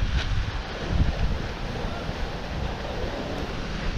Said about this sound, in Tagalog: Ang ganda dahil malakas yung hangin pero hindi malakas yung alon.